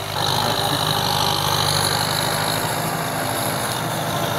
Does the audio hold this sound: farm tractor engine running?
yes